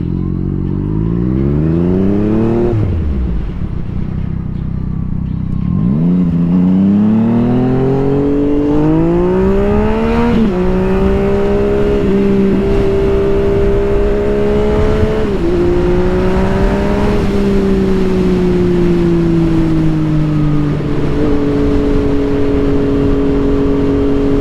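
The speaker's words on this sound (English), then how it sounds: "As you can hear, this bike also has a special exhaust, the X-Race Z7" A Yamaha MT-09 motorcycle with an X-Race Z7 aftermarket exhaust revving up and down close by, loud and throaty, its engine pitch rising and falling in several long sweeps before settling into a steady idle.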